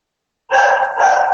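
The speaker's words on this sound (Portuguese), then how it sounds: "Seus cachorros tá agitadaço." Agitated dogs barking at home behind a live online broadcast, arriving as one loud, sustained bark-like burst after a moment of silence, close to the microphone with no talk over it.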